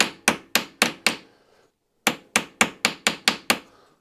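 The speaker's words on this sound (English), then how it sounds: "It's a simple case of riveting it over into the countersink" Hammer blows rivet a steam valve spindle pin into a countersink on a Stuart model steam engine part: five sharp metallic strikes, a short pause, then eight more in a steady beat, close and loud.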